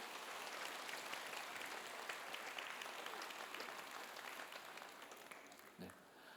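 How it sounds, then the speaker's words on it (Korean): Audience at a Korean diaspora world mission conference applauding to welcome a guest from Cuba: steady, far-off clapping from a large crowd, faint and even throughout, tapering off at the very end. "우리 한번 박수로 환영하겠습니다"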